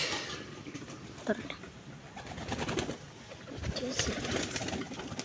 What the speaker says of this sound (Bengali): এটা একটা রেসা কবুতর